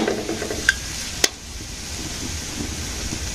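Onions and green chillies fry in a pan in a village kitchen, a steady broadband sizzle with a couple of sharp utensil clicks, close and continuous with no talk.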